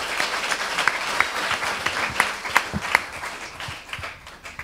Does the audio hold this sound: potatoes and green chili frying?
no